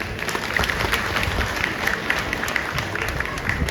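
An audience at a baby's naming ceremony claps in a dense, steady burst of applause that stays even from start to finish, with a murmur of voices underneath.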